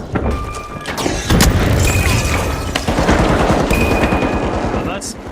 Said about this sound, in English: Charge is set. Placing an explosive.